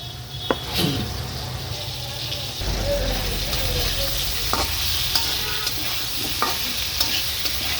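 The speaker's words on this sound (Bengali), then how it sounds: "আলুটাকে আর একটু ভেজে নেব।" Potatoes fry in oil with ginger-onion paste, turmeric, chili powder and salt while meat is being cooked, giving a steady close sizzle with occasional scraping stirs and clinks, a little louder after the first few seconds.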